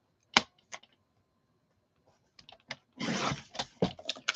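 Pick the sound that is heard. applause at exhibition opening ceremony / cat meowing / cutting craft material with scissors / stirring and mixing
cutting craft material with scissors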